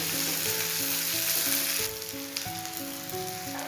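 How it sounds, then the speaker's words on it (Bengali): Chopped onions sizzle in hot oil in a pan, a steady close frying hiss while background music plays and no one speaks. "পেঁয়াজটা দিয়ে একটু ভালো করে ভেজে নেব।"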